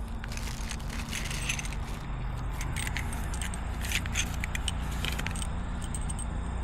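Metal hardware for a utility trailer swivel jack, bolts and nuts, is handled close by, giving repeated light jingling and clinking over a steady low background hum.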